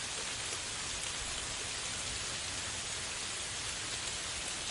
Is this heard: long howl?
no